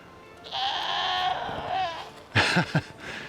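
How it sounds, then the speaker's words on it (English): A goat bleats in a long, wavering cry, followed by a couple of shorter, rougher bleats, loud and close by. "Do you hear those goats?"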